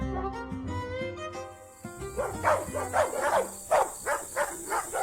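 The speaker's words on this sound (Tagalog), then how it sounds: "Nag-iingay kasi sa labas ang mga alaga niyang manok, pati na rin ang dalawa naming aso." Two dogs bark at night, repeated excited barks and yips in quick succession, fairly close, following a stretch of tonal music.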